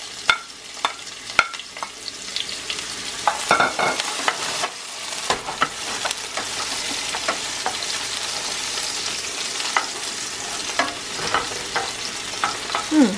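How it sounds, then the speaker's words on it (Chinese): Scallion, ginger and garlic stir-frying in a wok for a homemade hotpot base give a steady close sizzle, with repeated scraping and clattering strokes of the spatula throughout. "第一步是要先翻炒葱姜蒜"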